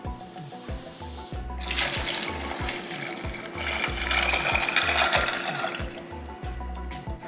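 Water pours steadily into a pot, a broad rushing splash that swells toward the middle, with light rhythmic tapping in the background.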